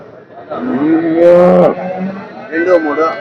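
A Jersey cow at a weekly cattle market in Punganur moos loudly and close, one long drawn-out call followed by a shorter second low.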